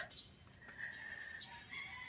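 Roosters crow in the distance, drawn-out calls overlapping faintly across a quiet outdoor morning, with no talking.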